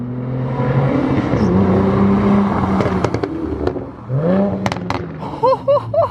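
Exhaust pops and crackles from a manual Chrysler 300 with a naturally aspirated V6 and a pop-and-crackle tune, loud engine drone with revving, then a series of sharp bursts near the end.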